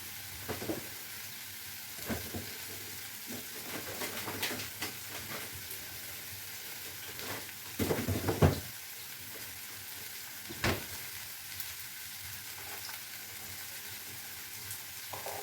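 Red onions fry in a pan with a steady, soft sizzle and hiss close by, broken by occasional clinks and scrapes of stirring.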